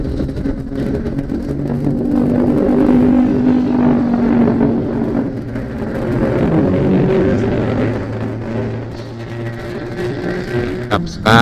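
A motor vehicle with a loud, leaky open exhaust drives on a road through Ciputat toward Cirende, its engine drone steady and close throughout, swelling and easing as it moves along.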